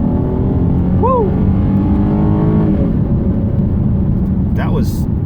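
A 2015 Dodge Challenger V6 engine roars steadily as it accelerates hard to about 70 mph, with a loud constant drone and a brief higher whine near the end.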